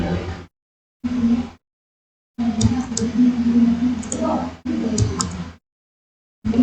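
Computer keyboard typing while entering an Excel formula, bursts of quick clicking keystrokes separated by short silent gaps, close and fairly loud with no talking.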